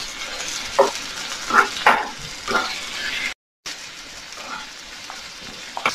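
Onion, ginger and tomato sauté in a pan for Kerala kadala curry, a steady close sizzle and frying hiss with a few stirring scrapes, broken by a brief gap.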